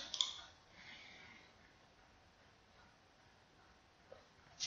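A computer mouse clicks a few times while opening Microsoft Word from the taskbar: one sharp click near the start and two more near the end, quiet and close, with near silence between.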